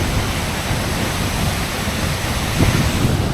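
Broad, steady roar of an Icelandic waterfall, a dense unbroken rush of water mixed with wind buffeting the microphone, continuous and fairly close with no speech.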